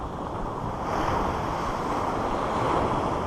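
Ocean surf washing onto a beach, loud broadband roar of breaking waves with wind buffeting the microphone, close and continuous, no voices.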